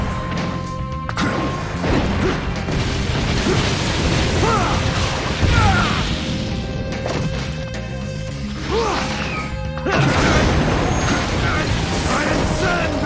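A battle in Naruto Shippuden Ultimate Ninja Storm erupts with loud crashing blasts and smashing impacts, several bursts in quick succession over a busy, dense game soundtrack with shouted character voices.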